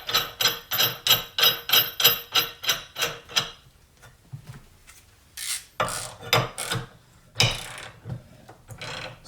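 A Harbor Freight Hercules impact wrench hammers on a bolt in a rapid burst of about ten sharp, loud rattling blows, then falls quiet before a few scattered clanks and hits follow.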